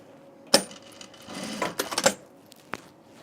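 Home sewing machine stitching a dress while low on bobbin thread, heard as a few short, uneven mechanical bursts and clatters with brief pauses between them, fairly close and alone.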